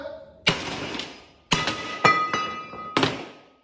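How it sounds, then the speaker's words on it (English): Several sharp metallic hammer blows ring out, about five strikes at uneven intervals, each with a bright clanging ring that decays quickly. "with a good few hits with a hammer, this thing will pop right off of here"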